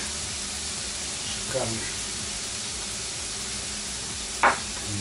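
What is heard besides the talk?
minced meat frying with pepper and garlic on grill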